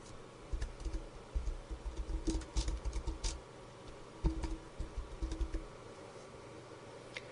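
Fingers typing a file name on a computer keyboard, a quiet, close run of irregular key clicks in short bursts with brief pauses.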